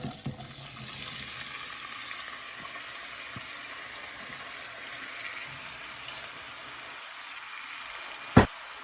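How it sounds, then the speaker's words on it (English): Steady soft sizzling and crackling of potatoes frying in hot oil, continuous and fairly quiet, with a sharp tap near the end. "It's sizzling a little."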